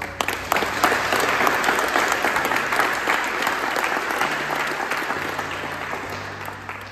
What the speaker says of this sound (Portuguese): Vamos dar aplausos?